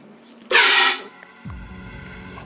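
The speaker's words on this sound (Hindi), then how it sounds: "हम सिंपली इसके वॉल्व को खोलेंगे, इसके अंदर से निकलेगी CO2" A CO2 cylinder nozzle is opened and the gas bursts out in a loud, close hiss lasting about half a second, then cuts off, leaving quieter mechanical rumble afterward.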